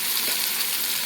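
Mustard paste hits fried pointed gourd in a hot pan and sizzles loudly in a bright, continuous hiss, heard up close and alone.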